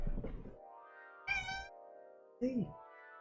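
A cat meows twice in the video game Terraria, short harmonic calls with quiet pauses between them, following a brief stretch of low murmur at the start.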